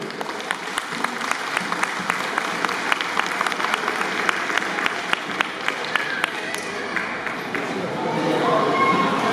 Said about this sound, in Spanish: Juan Meneses Taco, y pido un voto de aplauso